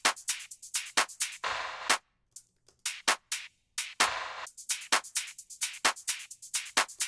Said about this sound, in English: if I put all the drums just alone